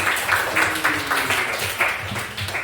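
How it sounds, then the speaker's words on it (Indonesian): Classmates in a classroom clap together in a steady, rhythmic burst of applause, close and fairly loud, lasting a few seconds. "tepuk tangan dulu untuk kawan kita Pauji."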